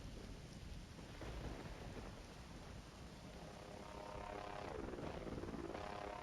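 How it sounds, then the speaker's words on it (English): A delivery drone arrives in the video game Voices of the Void, its rotor drone whirring steadily like a helicopter and swelling slightly as it nears, over windy ambient noise. "There's the drone dropping off our stuff."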